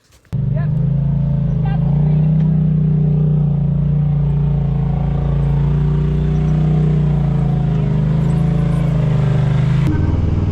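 A UTV engine drones loud and close while the vehicle drives a rock crawling trail at Hotel Rock near Bears Ears Monument in Utah. The low hum holds steady from start to finish after an abrupt start.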